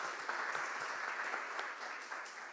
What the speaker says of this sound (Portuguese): dá uma salva de palmas na vida do Bruno e da Sueli